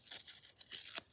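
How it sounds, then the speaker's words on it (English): Paper is torn by hand in a few short, close ripping strokes, quiet and papery, with brief pauses between tears and no talking. "I might tear it just a little more"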